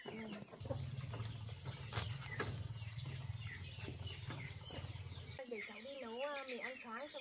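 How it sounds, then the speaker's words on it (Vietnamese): Chickens cluck and a rooster calls in a rural home setting, with birds and insects around, while people talk over the farmyard sounds at moderate level. "Thấy gà kêu lắm rồi"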